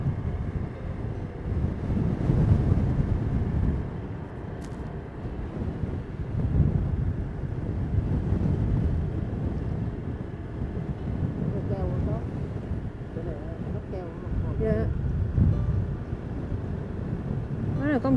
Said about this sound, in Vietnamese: Hôm nay đi đến đây á, gió nó khá mạnh luôn.